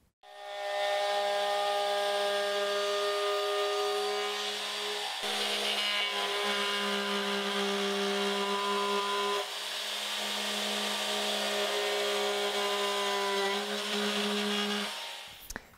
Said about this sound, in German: Was ich jetzt aber mache, ist, dass ich überall rundrum an die Kanten eine schöne Rundung dran fahre